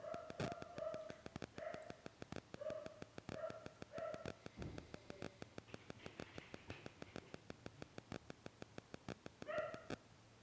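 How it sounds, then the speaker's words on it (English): Dog barking at someone at the door, a run of repeated sharp barks in an uneven rhythm with a few whimpers between, moderately close and alone without talk. "you could probably hear my dog."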